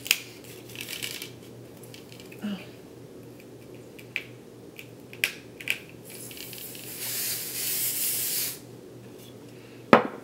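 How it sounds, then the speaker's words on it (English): A few short clicks and rustles, then a sustained hiss of Kenra 25 aerosol hairspray lasting about two seconds, close by, ending with a sharp click. "right here you can definitely spray"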